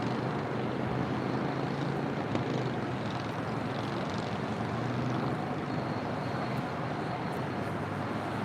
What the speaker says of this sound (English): looks like the Executive Jet Management Gulfstream heading to the south side